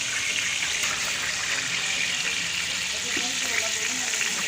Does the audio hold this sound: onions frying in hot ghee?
yes